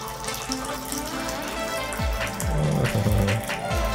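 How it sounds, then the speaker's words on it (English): Tea poured into a cup in a steady, splashy stream that rises in pitch as it fills, close and fairly loud over a faint background hum. "let me pour in some tea"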